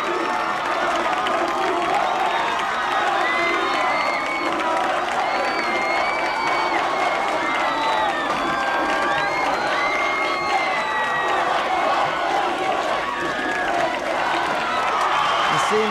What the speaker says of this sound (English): The crowd's showing their support right now for the Vikings.